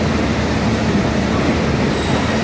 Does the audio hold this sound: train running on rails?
yes